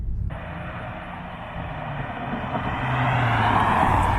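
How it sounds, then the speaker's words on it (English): A 2023 Kia K5 GT pulls away from a complete stop, its engine note rising steadily and growing louder over a few seconds with broadband road and wind noise. "when I come to a complete stop and accelerate once again"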